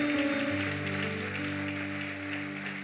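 Church congregation applauding during a service, a steady wash of clapping beneath sustained organ or keyboard chords, moderately distant and even throughout.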